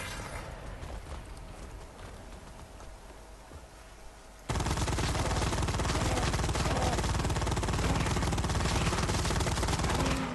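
Rapid automatic secondary-weapon gunfire in the sci-fi shooter Firefall, a dense, continuous loud burst of shots starting about four seconds in after a quieter stretch of fainter firing, with no talk.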